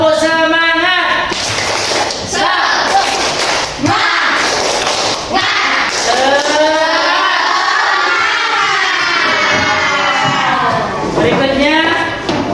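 Schoolchildren in a classroom perform a rhythmic spirit clapping chant, voices chanting together loudly with interspersed claps and thumps throughout.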